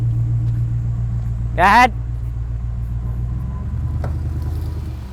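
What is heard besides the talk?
1985 Dodge minivan being yanked by a Land Cruiser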